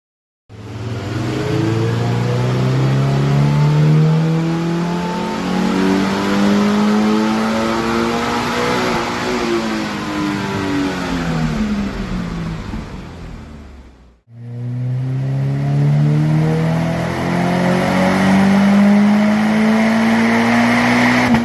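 Subaru BRZ / Toyota GR86 (ZD8/ZN8) fitted with a COLBASSO Ti-R Plus single left-exit muffler, loud engine revving up in long sweeping pulls with a brief break mid-way, close and continuous with no talk.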